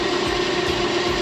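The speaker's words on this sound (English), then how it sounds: "I'm drilling inside so I can put a screw in there to try to hold it." A steady high-pitched whine of a power drill running continuously at constant speed, close by, drilling into a toy tractor for a screw, with no talking.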